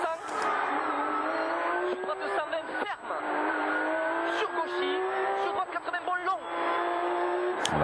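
A Peugeot 207 S2000 and two Porsches racing at the Rallye d'Antibes 2014, loud high-revving engines with repeated gear changes and shifting pitch, heard under a commentator's voice.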